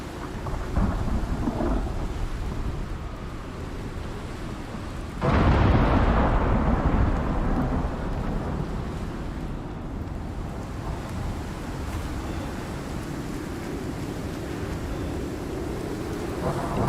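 Thunderstorm with rain in the survival video game ICARUS: steady hissing rainfall with a sudden loud thunderclap partway through that rolls into a long, fading rumble, no voices heard.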